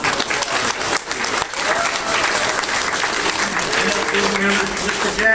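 An audience breaks into loud, sustained applause for a military veteran, dense clapping filling the whole stretch without letting up.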